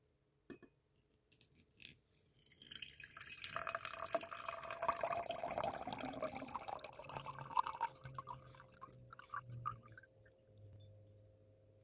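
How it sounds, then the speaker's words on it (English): Dark liquid containing potassium carbonate decanted off a settled mixture, pouring and trickling steadily at close range for several seconds before tapering to scattered drips, with no talking. "This majorly settled down overnight, so I am going to decant the top liquid there"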